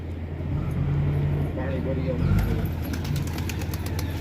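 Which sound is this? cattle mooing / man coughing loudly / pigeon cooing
pigeon cooing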